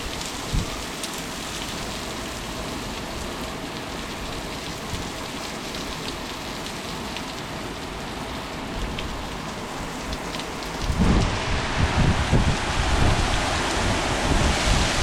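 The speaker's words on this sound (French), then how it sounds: "t'entends un bruit de grêle." Dense pattering of hard ice pellets over steady rain, intensifying sharply near the end into a louder, harsher clatter.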